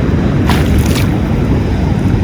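Loud rushing water surges continuously at a village in Australia, a heavy wash of churning waves with wind buffeting the microphone.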